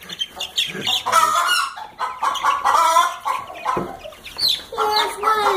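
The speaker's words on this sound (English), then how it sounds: "taking care of our baby, new baby chickens" Young chickens cluck and squawk close by in loud, irregular bursts that run almost without pause.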